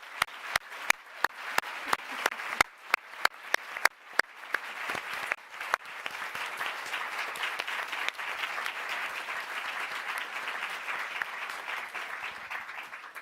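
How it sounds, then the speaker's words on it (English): An in-person audience applauds an expert panel at a live conversation event, beginning with a few sharp, isolated claps that quickly swell into steady, sustained applause filling the room. "can I get a really massive round of applause for our expert panel today?"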